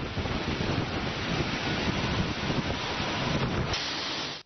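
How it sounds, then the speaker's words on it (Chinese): Huge storm waves pounding a shore during heavy rain, a steady loud roar of surf and spray that holds continuously before cutting off abruptly at the end. "巨浪不停向岸边拍打。"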